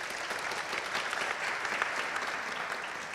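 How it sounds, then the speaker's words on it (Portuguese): A live audience at a panel on women in the games industry applauds the moderator being introduced, a dense, steady wash of clapping that stays even throughout with no voices over it. "Palmas para ela, por favor."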